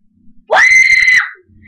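A person lets out one loud, sustained scream of about three-quarters of a second, close to the microphone, beside an anemometer; a few quiet sounds come before and after.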